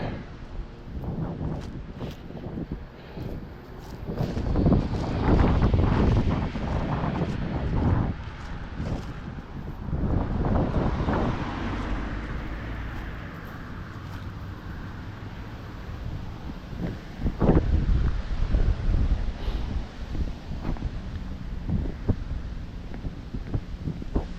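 Gusty wind buffeting the microphone at an outdoor shooting range, with loud low rumbling bursts that swell and fade throughout, no talking.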